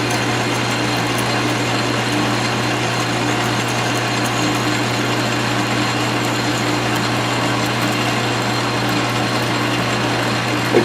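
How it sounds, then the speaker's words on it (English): A 9-inch Southbend lathe drills into leaded steel stock, a steady, even whir of the spindle and cutting held at constant loudness throughout, close and without talk. "Yeah, it's drilling like leaded stock."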